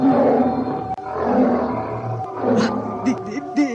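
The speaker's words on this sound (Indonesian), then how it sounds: "terdengarlah suara raungan harimau yang memecahkan kesunyian malam." A tiger roars loudly across the opening seconds as a sound effect in a night-time village drama, its growling swells followed by shorter snarling bursts, with a lower voice murmur or other effects underneath.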